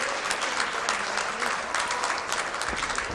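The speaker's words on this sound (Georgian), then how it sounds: "აპლოდისმენტები, მეტი აპლოდისმენტები" Studio audience applause on a televised celebrity dance competition show, dense and loud continuous clapping from a large crowd lasting the whole stretch.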